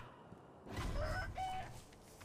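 Birds in a video game, rooster-like crowing and clucking calls that rise suddenly from quiet, loud and close for about a second and a half before fading.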